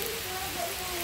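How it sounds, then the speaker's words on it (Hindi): Steady rain falling outdoors at a rural home courtyard, a continuous dense hiss of drops filling the short stretch, moderately loud and close, with no one talking. "देखिए कितना अच्छा से हो रहा है बारिश"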